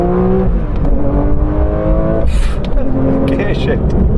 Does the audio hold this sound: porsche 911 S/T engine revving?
yes